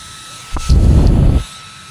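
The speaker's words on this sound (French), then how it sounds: "un ventilateur turbo" A battery-powered turbo fan, found in George Town, Malaysia, whirs up in a short, loud, close burst of rushing air lasting under a second before cutting off.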